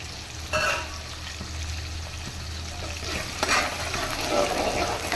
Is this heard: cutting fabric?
no